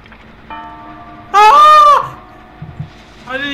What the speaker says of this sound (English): Was that a fucking bird?